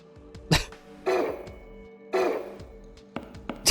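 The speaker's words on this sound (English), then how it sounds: "Cough." Several separate coughs ring out close to the mic, sharp bursts spaced about a second apart, with a softer throat-clearing catch near the end; nobody speaks.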